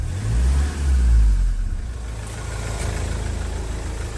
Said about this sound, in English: I'm going to rev the car